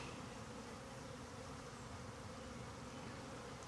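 Honeybees swarming around a hive while searching for the entrance, a dense continuous buzzing drone filling the air evenly, close and steady with no talk.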